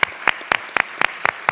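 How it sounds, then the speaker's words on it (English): A short round of clapping for conference speakers at a robotics conference session, heard as a handful of sharp, evenly spaced claps, close and brief. "let's give one more round of applause for our speakers here."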